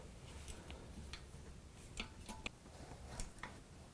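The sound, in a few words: folding e-bike disc brake rotor rubbing on caliper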